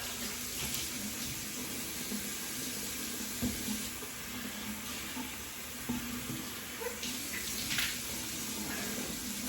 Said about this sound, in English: let's go ahead and splash some hot water on the face.